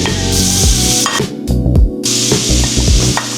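Garlic sizzles in melted butter in a pan, a loud close crackle and hiss broken by stirring scrapes and a brief lull, with no talk.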